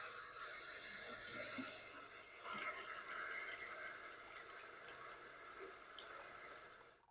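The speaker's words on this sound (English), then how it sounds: "We're gonna pass some water through in bypass mode." Water running through a VEVOR DI water system in bypass mode into a bowl, a faint, steady hiss of flowing liquid with a brief splashy knock partway through.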